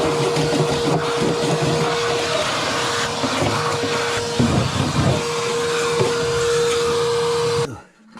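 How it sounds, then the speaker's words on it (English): Vacuum cleaner sucking debris from the body of a Moskvich (AZLK) 2140 during rust repair, a steady loud whine with a constant tone and roughened bursts as debris is pulled in, cutting off near the end. "let's vacuum this stuff away from here"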